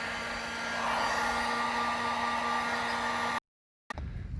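A heat gun blows on a silicone-filled waterproof wire connector during trailer wiring repair, producing a steady close whooshing hum that holds for about three seconds, then stops abruptly.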